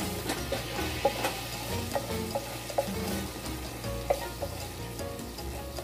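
Shrimp sauce cooks in a pan with garlic and butter, a steady close sizzle and bubbling broken by periodic scraping stirs and soft taps, with no voices.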